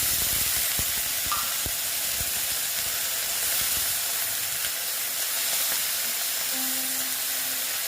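A pan sizzles and hisses steadily and loudly as red chili powder and a splash of water go in, with faint stirring clinks and scrapes under the continuous frying sound.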